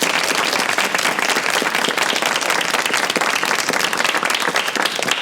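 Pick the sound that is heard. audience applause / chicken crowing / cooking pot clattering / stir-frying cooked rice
audience applause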